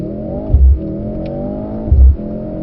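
A Mercedes-Benz car accelerates hard on a test track at Brooklands, its engine note rising steadily with two low thumps at gear changes, close and loud with no talking.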